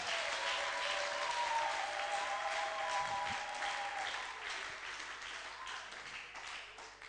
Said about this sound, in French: Acclamons très fort pour notre Dieu.